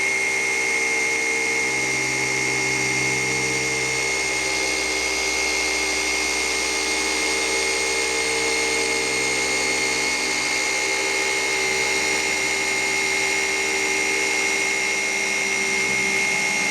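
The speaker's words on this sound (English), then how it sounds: "I'm gonna go grab my polisher and some polish" A polisher working over the paint of a Porsche 944 gives a loud, steady motor whine with a constant high hum that runs unbroken throughout, close up and with no talking.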